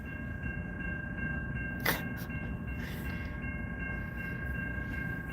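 A freight train's rail cars stand near a crossing after stopping, with steady low rumble throughout and a brief metallic squeal or screech of brakes near the two-second mark, then fainter screeches under constant hum.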